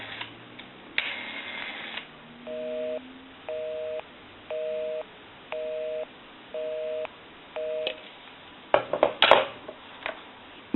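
Busy signal from an Automatic Electric rotary desk telephone: six evenly spaced on-off tone bursts in a steady rhythm, heard clearly after a brief dial tone, followed by handset clatter at the end.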